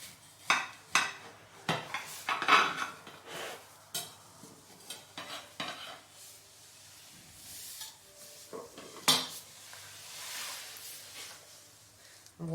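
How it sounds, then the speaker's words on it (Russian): A knife slices a cooled Italian apple pie into portions. Sharp, scattered clicks and taps of the blade against a board or plate come close and fairly quiet, separated by soft gaps. "Остывший яблочный пирог нарезаю на порционные куски."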